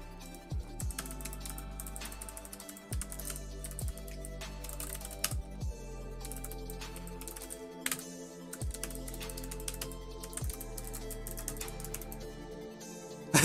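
Typing on a computer keyboard with irregular clicks and short bursts of keystrokes, close and moderately quiet, over low background hum with no talking.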